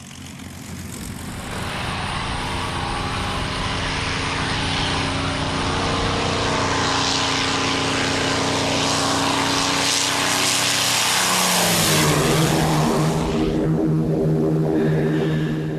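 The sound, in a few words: P-51 Mustang fighter planes taking off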